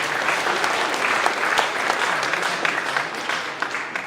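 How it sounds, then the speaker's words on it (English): Crowd applause at a boxing press conference in Liverpool, a full room of hands clapping steadily and fairly close, with a few sharper claps standing out and no talk over it. "we'll give him a round of applause."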